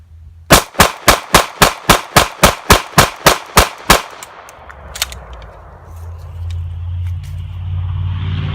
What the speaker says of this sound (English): from about 8 feet engagement range, full mag dump, that's definitely going to take care of a person.